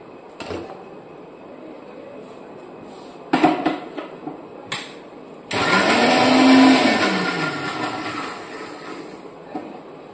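A mixer grinder whirs loudly for several seconds as it grinds a ball of horse gram dough, a high-pitched motor drone that fades out. Clinks and knocks come before it, and no one speaks.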